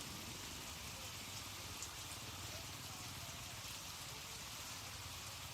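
Rain falls steadily as a faint, even hiss of drops on surfaces, continuous throughout with no talking.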